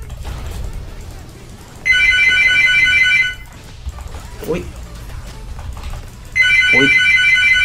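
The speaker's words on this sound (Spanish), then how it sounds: "Lo siento, chicos, siento el teléfono." A telephone ringtone plays in two loud electronic ringing bursts separated by a gap, under background game sounds and a voice.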